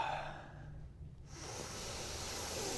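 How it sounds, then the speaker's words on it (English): A person sniffs a Sharpie marker, a short hiss of inhaled air through the nose rising after a brief quiet pause, close and soft with no talking. "I'm assuming that was just him sniffing a Sharpie"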